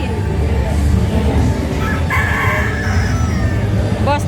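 Gamefowl broodstag roosters crowing at a breeders festival, several loud crows overlapping from near and farther pens amid steady crowd hubbub, with a sharp crow rising near the end.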